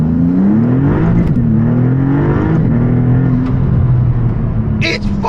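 A Maserati MC20 in sport mode revs up through rising engine pitch sweeps, loud and close inside the cabin, with a brief click near the end.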